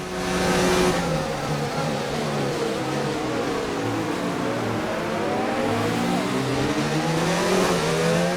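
Formula 1 race car engine in a Chinese Grand Prix racing game, running in another car's slipstream: a loud, steady high-revving whine with shifting harmonic sweeps as revs climb and fall, continuous throughout with no talking.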